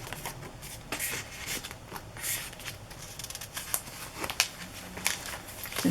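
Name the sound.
paper pages flipping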